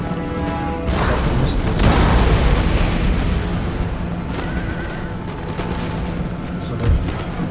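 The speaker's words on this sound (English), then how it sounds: "So the artillery in the center is doing the work quite well" Battle din from Empire: Total War, with artillery fire from cannons in the center of a French army line booming through a dense, continuous layer of combat noise, horse whinnies and musketry, with a voice talking over parts of it.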